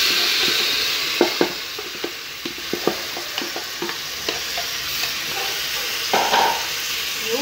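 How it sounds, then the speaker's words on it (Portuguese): Beef tripe added to a frying pan of lightly browned onions, a constant loud sizzle with repeated scraping and stirring clatters throughout. "eu vou acrescentar aqui a dobradinha"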